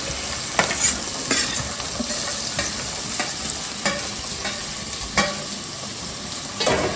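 Onion pieces fry in a pan with a constant close sizzle, broken every second or so by the scrape and tap of a stirring spoon, with no talk.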